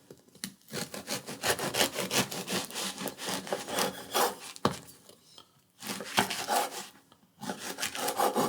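A knife saws through a crusty ciabatta loaf, cutting it into inch-sized pieces with a series of close, crackly rasping strokes and brief pauses between cuts.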